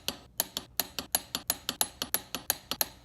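A ratchet wrench clicking as bolts on an M20 flywheel are torqued down, about a dozen sharp metallic clicks in a steady quick rhythm, close and clear.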